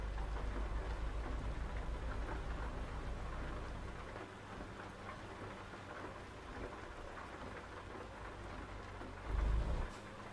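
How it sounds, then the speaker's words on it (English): Steady heavy rain hissing throughout in the video game American Truck Simulator, with low rumbling thunder at the start and a brief deeper rumble near the end, no voices. "Of course, it has to be raining."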